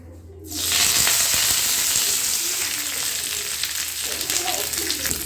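Curry leaves drop into hot oil for an egg roast and burst into a loud, crackling sizzle that starts abruptly after a brief silence, then holds as a steady, close frying hiss.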